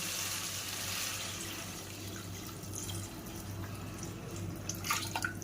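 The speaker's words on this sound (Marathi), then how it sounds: "त्याच्यामध्ये छानपैकी पाणी घालूया" Water pours steadily into a pot of dal khichdi with a soft splashing rush, close by and fairly quiet, ending with a few brighter splashes.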